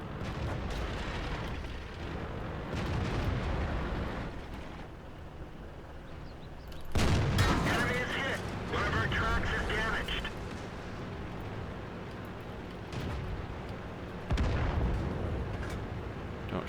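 Tank gunfire in World of Tanks booms out as several heavy blasts, the loudest bursts near the middle and end, set against rumbling battle noise with someone talking over much of it.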